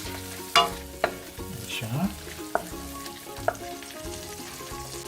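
Butter sizzles in a frying pan while cream-sauce pasta is cooked, a steady crackling fry with occasional sharp clinks and stirring scrapes; a voice briefly speaks over it.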